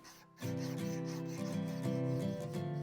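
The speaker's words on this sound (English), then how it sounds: "So now we're going to head over to our finishing area. We're going to hit the sanding." A steady, grinding rasp of a power sander working a steel knife, starting after a brief pause and holding a constant humming drone throughout.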